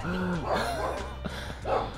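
A neighbouring dog barks in short, repeated yelps and whines, fairly close and clear over a steady background hum, with no talk.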